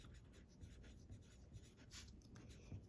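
Soft scratching strokes of handwriting on paper, close and faint, in a quiet steady run of short pen movements.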